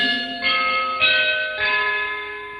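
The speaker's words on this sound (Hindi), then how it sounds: "घंटी बज गई" A school class bell rings loudly, its metallic tone struck about four times in quick succession, each strike sustained with a long shimmering ring and no voices.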